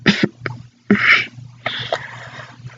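Several harsh, close coughs come in short bursts with a strained groan between them, loud against a quiet background.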